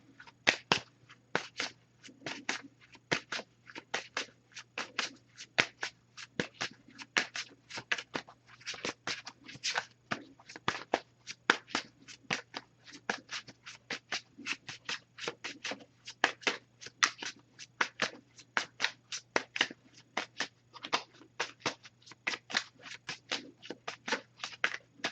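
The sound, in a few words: shuffling oracle cards to pull one card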